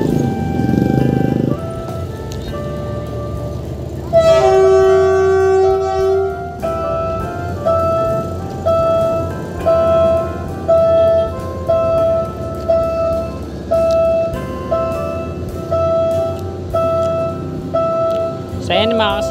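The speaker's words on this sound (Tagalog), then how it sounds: "padaanin muna natin yung tren. Ito yung patungong Alabang." A train passes heading toward Alabang near an expressway construction site, with a loud sustained tonal horn-like blast followed by rhythmic repeating rumbling and squealing tones as it goes by, mixed with a voice.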